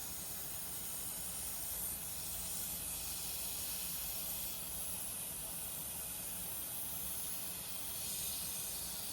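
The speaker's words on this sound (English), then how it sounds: "Just a little bit of Freon escaping there." Freon refrigerant hissing as it escapes from a Robinair refrigerant recovery machine, a continuous close broadband hiss holding steady throughout.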